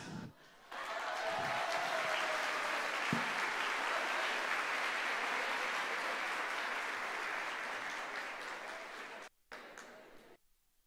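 An audience at a tax update seminar applauds a prize winner, sustained, even clapping that swells quickly after a short pause, holds for several seconds, then fades and cuts off near the end.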